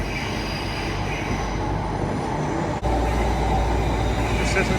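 An eight-carriage London train pulls into a station platform, a steady heavy rumble of wheels with high metallic squeals throughout and a brief dip in the noise partway; someone speaks lightly over it.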